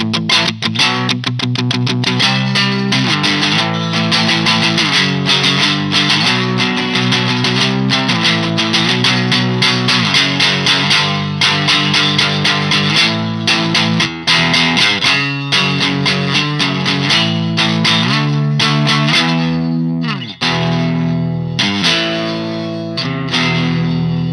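Electric guitar on a single-coil pickup run through an effects pedal, strummed and picked continuously with distorted, reverb-washed chords and fast riffs, loud and alone with no voices.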